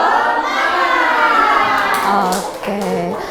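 A class of children performs a rhythmic group clap-chant, the 'tepuk semangat', in a classroom. Sharp claps land in a patterned beat over lively, overlapping young voices.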